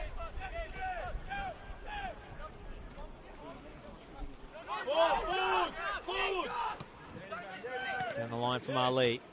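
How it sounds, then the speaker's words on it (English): Jeering Bronx cheer rises from the Preston grandstand during a soccer match between Preston Lions and Melbourne City, a loud swell of crowd voices with a commentator talking over it. "And then the Bronx cheer goes up from the Preston grandstand."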